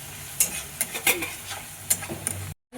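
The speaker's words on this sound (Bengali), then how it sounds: "এটা ভালো করে আমি কষিয়ে নেবো, ভালো করে ভেজে নেবো" Masala spices are stir-fried in oil in a pan for a paneer dish, giving a soft sizzle with several sharp utensil clinks and scrapes, then stopping abruptly near the end.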